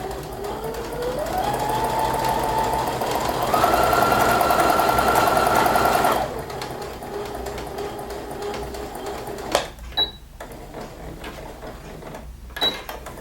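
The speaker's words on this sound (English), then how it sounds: "Give it my first stitch, back stitch, and take that curve." A sewing machine stitches a curved seam with a 1-inch seam guide, its motor whirring steadily and rising in pitch as it speeds up, then stopping after six seconds, followed by quieter handling clicks and taps.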